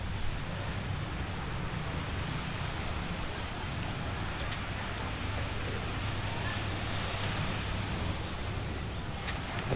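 Surf rolling in on Kamala Beach in Phuket, a steady, broad wash of waves with wind noise, faint and continuous with no distinct breaks.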